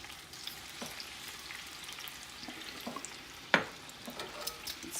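Homemade balsamic vinaigrette hits a hot pan with a steady, soft frying sizzle and occasional pops. One sharp crackle stands out midway. No one speaks.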